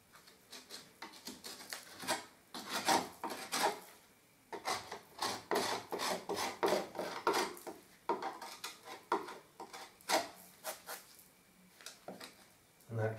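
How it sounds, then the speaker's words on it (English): An old screwdriver pushes expanding foam into a gap along a wall, giving a run of scraping, rubbing and tapping noises in uneven bursts, close and fairly loud. "taking an old screwdriver, you can just push the foam in."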